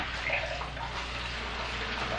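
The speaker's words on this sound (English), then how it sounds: "I've got this nice clean purified water here, and I'm just going to pour that in" Purified water pours in a steady, continuous gush into a soup pot on a kitchen stove, loud and close throughout.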